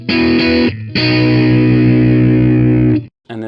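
Distorted electric guitar through a Two Notes Reload 2 load box with the depth control turned fully up, a short chord, a brief stop, then a long sustained ringing chord that cuts off abruptly, followed by another strum.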